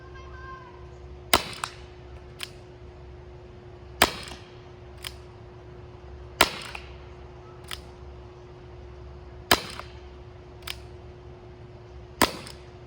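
A Nerf Fortnite pump blaster fired at a target, six sharp snapping shots spaced a couple of seconds apart, each followed by a fainter click or thud from the pump or impact, with no talk.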